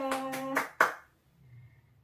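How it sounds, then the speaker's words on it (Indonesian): A few handclaps in a classroom for a student group, a brief burst of claps that ends abruptly, followed by quiet room tone. "Beri tepuk tangan untuk kelompok 2."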